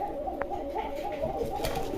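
A pair of Budapest high-flying pigeons coo in a low, continuous burble, close and moderately loud, with a brief sharp click partway through and no talking.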